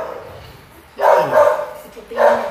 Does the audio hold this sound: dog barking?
yes